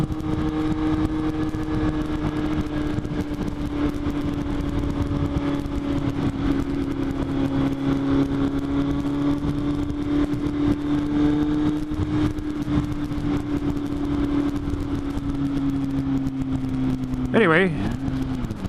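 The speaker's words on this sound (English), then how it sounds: "the rumble it gives makes the bike sound a lot bigger than it is" A Kawasaki Z800 motorcycle's loud exhaust rumbles in a steady, deep drone throughout the ride, holding an even pitch before a brief surge and shift near the end.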